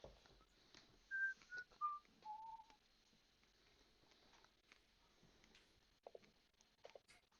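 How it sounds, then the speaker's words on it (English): A person whistles a short melodic phrase of Some Enchanted Evening, a few clear descending notes near the start, fairly quiet against a soft room background, with faint clicks and knocks afterward. "Are you whistling some enchanted evening?"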